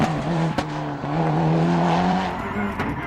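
A WRC rally car on a tarmac stage at Rally Catalunya screams past close by, its engine wailing at high revs with a sharp gear-change crack and a brief tyre squeal.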